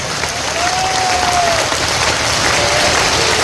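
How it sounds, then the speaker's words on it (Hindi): A large crowd at a Hindu devotional gathering on the Narmada claps continuously, a dense, loud wash of applause that holds steady throughout, with a faint voice briefly audible. "ताली बजाना है राम के नाम का, हरि के नाम का।"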